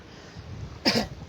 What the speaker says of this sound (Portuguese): pigarrozinho